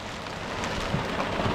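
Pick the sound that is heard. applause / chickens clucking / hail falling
hail falling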